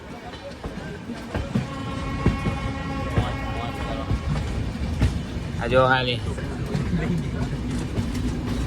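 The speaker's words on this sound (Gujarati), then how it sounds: "સામે ટ્રેને જાય, અમારી ટ્રેને જાય" A moving passenger train bound for Agra rumbles and rattles steadily, with people talking over the noise.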